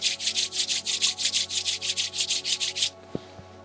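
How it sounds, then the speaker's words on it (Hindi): Two palms rubbed briskly together close up, about fifteen quick even strokes in a steady rhythm before stopping, followed by near silence with a small tap. "दोनों हाथों को रब करेंगे"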